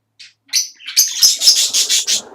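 Pet parakeets in a cage chirp close by in quick bright bursts, a rapid run of tweets after a brief opening call, with faint flutter underneath.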